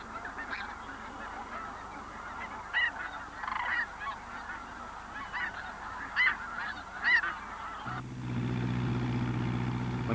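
Sandhill cranes and white whooping cranes call among each other, with repeated honking calls at mid distance over quiet ambience, giving way near the end to a steady engine hum.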